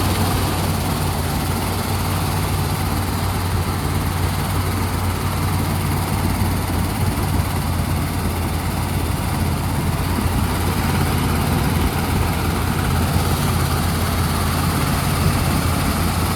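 A 1968 Dodge Polara V8 runs steadily after a swap to a four-barrel intake and carburetor, with a loud, continuous, close rumble at a constant idle and no talking.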